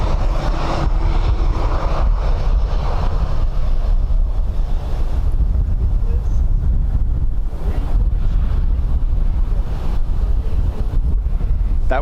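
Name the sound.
strong wind blowing at an airport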